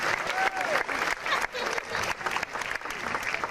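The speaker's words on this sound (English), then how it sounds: "Give yourself a little round of applause." Audience at a live animal actors show claps steadily, a crowd's applause running throughout with faint voices and a few high whistle-like tones mixed in.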